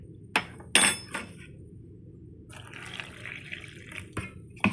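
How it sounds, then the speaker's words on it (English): Water poured from a vessel into a container holding flour and salt for boiled dumpling dough, with a few sharp clinks up front and then a soft, steady splashing pour close by. Nobody speaks. "So in this container is just flour and salt. That's it. And I'm gonna pour water in."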